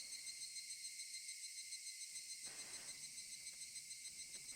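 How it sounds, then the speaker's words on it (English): Cicadas from the game Higurashi When They Cry drone in a loud, steady, high-pitched chorus with a faint pulsing rhythm, continuous throughout, while a soft rustling swell passes beneath them partway through. "Only the cry of the cicadas remained annoyingly loud."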